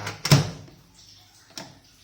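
A microwave door opens with a sharp click and latch, then after a pause shuts again with a softer clunk, nearby.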